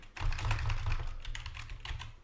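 Quick bursts of keystrokes clatter on a computer keyboard, close and clear for about two seconds with no talking.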